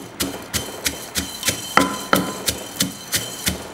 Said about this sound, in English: add about 1/4 teaspoon of salt, and then 2 tablespoons of pepper, and then we're going to grind that up